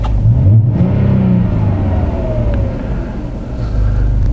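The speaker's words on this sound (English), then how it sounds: "The engine appears to run really well. It's revving." A 2018 Chrysler 300 engine that had been hard to start runs steadily and revs, a loud close mid-pitched rumble and whir with rising and falling throttle swells and no talking.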